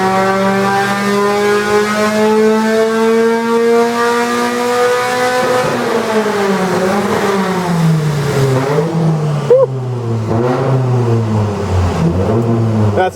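Car engine with a new 531 cylinder head revs hard on a dyno toward a 7,400 RPM redline, a loud continuous high-pitched scream that climbs, wavers and drops back near the end, with no talking.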